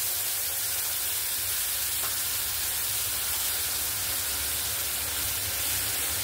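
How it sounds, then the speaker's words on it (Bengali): Tamarind water poured over kunkuni fish frying in a pan lets out a steady, broad sizzle that hisses on continuously at close range, with no voices over it. "আমি এবার তেঁতুলের যে গোলাটা করে রেখেছি, জলটা বের করে রেখেছি, এটা আমি উপর থেকে দিয়ে দেব।"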